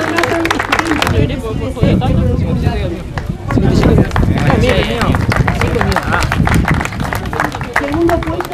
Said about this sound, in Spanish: Caballero, fuerte aplauso.